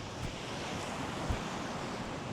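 Monsoon-season ocean waves roll and hiss in a dense, steady wash while strong wind buffets the microphone, loud and unbroken, with no voices.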